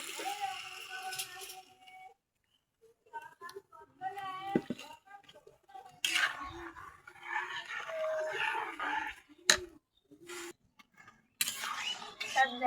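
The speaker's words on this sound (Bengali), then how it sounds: "আর এখন এই যে চাল ভাজাগুলো ঢালে দিচ্ছি।" Fried rice grains are poured into water in a pot to make bisqui rice, scattered rattles and splashes in short bursts between quiet gaps, close by, with someone speaking in between.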